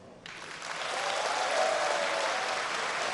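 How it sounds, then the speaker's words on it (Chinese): Warm applause breaks out at the announcement of the Hong Kong Chief Executive election result, rising quickly into sustained, even clapping from a large assembled crowd in a hall. "现场响起热烈掌声"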